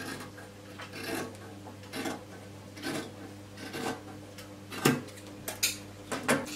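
Scissors cutting through fabric for a girls' four-layer ruffle dress, a series of close, rhythmic rasping snips with a steady hum underneath and no speech.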